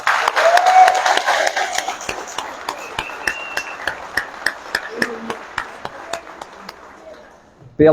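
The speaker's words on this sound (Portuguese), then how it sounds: "para vocês eu vou pedir uma salva de palmas" Applause at a political pre-candidacy launch event for a state deputy, starting as a dense burst mixed with voices and thinning to scattered individual claps that fade out.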